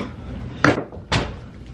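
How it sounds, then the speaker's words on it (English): A door shut twice in a home, a moderate bump followed by a firmer thud about half a second later over a quiet room tone. "Shut this door."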